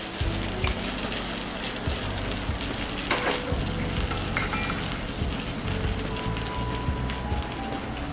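Steak frying in butter with garlic, a loud continuous sizzle and crackle close by with light spattering and occasional stirring, unbroken and with no voices.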